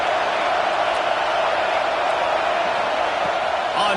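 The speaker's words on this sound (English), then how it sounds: "Listen to this crowd just shaking the girders of this place trying to help their defense" Steady, dense roar of a packed stadium crowd in the College Football 26 video game, loud and continuous throughout with no break, rising as fans try to help their defense.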